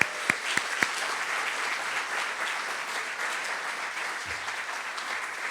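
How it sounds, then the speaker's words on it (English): Applause from the audience at a community foundation scholarship awards evening on Nantucket. A few sharp claps open it, then it swells into steady, full clapping that carries on evenly, with a brief low voice partway through. "So how about a round of applause for that?"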